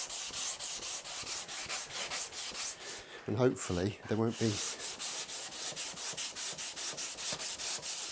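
Self-adhesive 320 grit sandpaper is rubbed over a guitar fretboard during the build of a Johnny Ramone replica guitar. The rasping strokes are close and steady, repeating in an even rhythm, and a voice talks briefly partway through.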